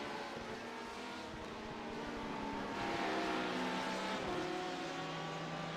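LMP2 prototype race cars at Spa-Francorchamps in iRacing, a continuous engine drone whose pitch rises and falls as the cars pass and shift, growing slightly louder midway.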